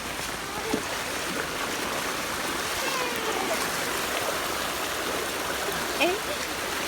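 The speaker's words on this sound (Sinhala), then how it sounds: "ඊයේ රෑ 11 ඉඳන් වහිනවා තාම වහිනවා" Steady broadband wash of heavy rain falling, constant and fairly close, with a faint voice briefly audible underneath.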